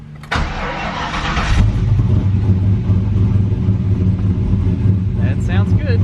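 A car engine cranks and catches after a distributor repair, then settles into a steady, loud idle that rumbles on close by; a voice speaks briefly near the end.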